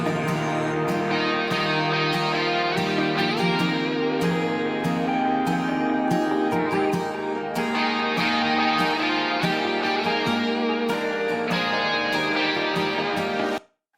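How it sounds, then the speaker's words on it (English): Layered electric guitars in a full guitar arrangement mixed in Dolby Atmos play as a dense, loud, continuous passage for about fourteen seconds, then cut off abruptly. "So altogether, the guitar arrangement sounds like this."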